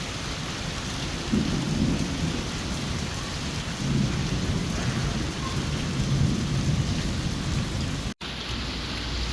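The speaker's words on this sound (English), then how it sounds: "Sorry it's so rainy for you, bud." Heavy tropical rain pours steadily in Singapore, with rolling thunder swelling and fading several times beneath the dense hiss of downpour; no one speaks.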